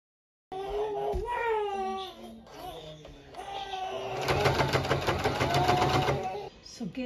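A sewing machine runs a fast, even stitching rattle for about two seconds as it sews tape around a poncho pocket, after someone speaks over the quieter start.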